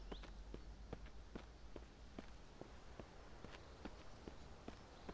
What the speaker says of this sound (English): I hear my own footsteps and I think it's a zombie.